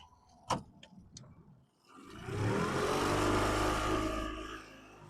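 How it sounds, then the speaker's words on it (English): A small outboard engine on a fishing boat catches after a few clicks and knocks, then runs with a steady, close droning rumble that fades slightly at the end, with no talk over it. "I'm going to get on the engine, get us out of here"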